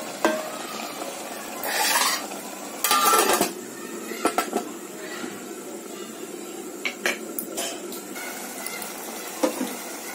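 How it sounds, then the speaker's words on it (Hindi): Fish pieces being mixed with tomatoes in a pot for a tangy tamarind fish curry, giving a few scraping spoon-against-pot stirs and clinks over a soft steady background sizzle, with no talking. "इसे थोड़ी देर हम ये टमाटरों के साथ अच्छा मिक्स करके"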